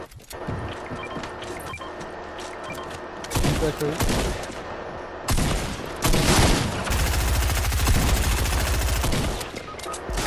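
Rapid bursts of video game gunfire and automatic weapon fire, loud and dense, with heavier sustained volleys in the second half and a voice talking briefly underneath.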